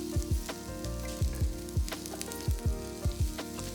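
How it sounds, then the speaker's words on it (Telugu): Onions, garlic, ginger, cashews and green chillies fry in a pan for mutton korma under a steady sizzle, with a spoon scraping through them in regular strokes about twice a second. "8 వెల్లుల్లి రెబ్బలు, తరిగిన ఒక పెద్ద అల్లం ముక్క, 10 జీడిపప్పులు, అలానే మధ్యలో కట్ చేసుకున్న 4 పచ్చిమిరపకాయలు వేసి అన్నిటినీ ఒక 5 నిమిషాలు ఉల్లిపాయలు మగ్గి రంగు మారేంత వరకు కలుపుతూ ఉండాలి"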